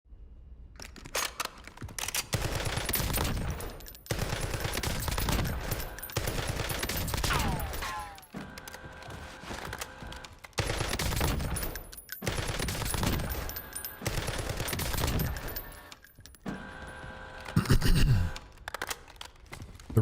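A weapon fires in Call of Duty Warzone, with several sharp rapid bursts of gunfire separated by short gaps across the stretch, close and fairly loud with game ambience between.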